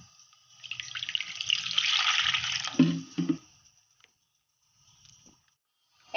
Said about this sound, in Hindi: अब हम इन्हें 2 बार पानी से धो लेंगे।